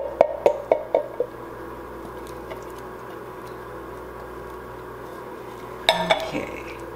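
Metal spoon clinks against a pot while pumpkin chili with kidney beans is stirred, a quick run of sharp taps near the start and a brief scraping clatter near the end, with quiet kitchen hum between.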